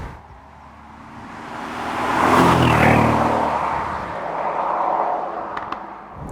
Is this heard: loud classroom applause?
no